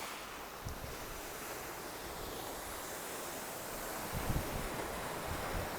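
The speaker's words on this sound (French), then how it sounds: "Bruit de la mer, la crique." Sea waves wash into a rocky cove along a sunny coastal corniche, a continuous hissing surf with soft swells and some wind buffeting the microphone, with no voices.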